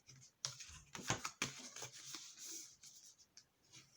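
A tool burnishing score lines on folded cardstock for a card box, close, faint scraping and rubbing strokes in short bursts with small taps between them, with no talking.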